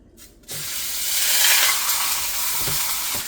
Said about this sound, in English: go ahead and place this in there. We want to sear it on all sides.